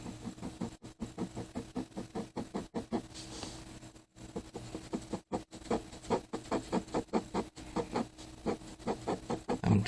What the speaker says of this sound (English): I'm kind of just cross-hatching into the eye